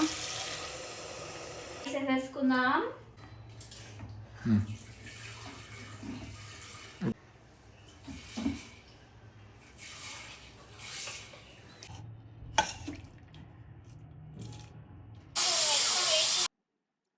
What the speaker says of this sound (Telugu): సో ఇప్పుడు వాటర్ వేసేసుకోవాలి తగినంత.